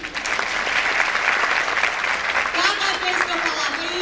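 An audience applauds steadily throughout, a dense wash of clapping from many hands at a lecture, with a faint voice or tone rising under it near the end.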